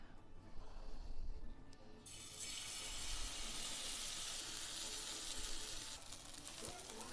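Hot oil in a kadhai breaks into a steady hiss of sizzling after a couple of seconds of quieter rumbling, continuing evenly and close, then changing slightly near the end.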